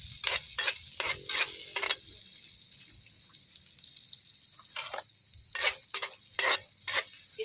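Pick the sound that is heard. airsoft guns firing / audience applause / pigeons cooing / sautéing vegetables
sautéing vegetables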